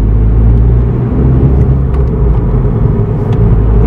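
A Suzuki Swift Sport with a six-speed manual gearbox accelerates from low speed in a high gear, its engine a loud, steady low rumble heard from inside the cabin, with no talking.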